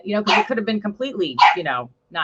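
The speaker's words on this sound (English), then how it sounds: "sorry, that's my dog." Pet dog barking and yipping in short bursts while a person keeps talking over it, indoors and close.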